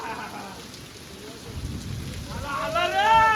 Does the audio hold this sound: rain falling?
yes